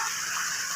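Water bubbles and gushes in a tilapia fish pond, a dense continuous hiss of churning water with no pauses, close and steady with no talking.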